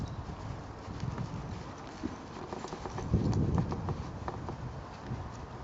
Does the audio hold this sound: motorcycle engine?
no